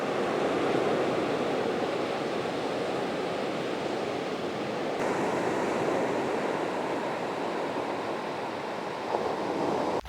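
Ocean waves wash onto the beach at Big Sur in a continuous, fairly soft roar of surf, with rolling swells and hiss filling the whole stretch and no voices.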